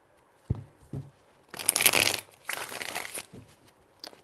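Tarot cards being shuffled in several quick riffled bursts, papery crackling and flapping close by, separated by brief pauses and soft taps.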